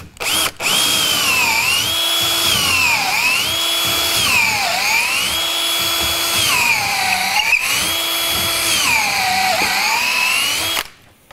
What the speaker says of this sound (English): I can drill the hole through.